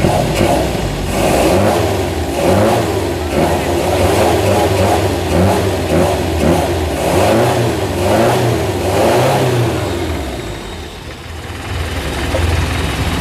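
A Zebra 1.3 car engine with a freshly adjusted carburetor revs steadily and loudly in a close, continuous rising and falling drone, with no speech over it.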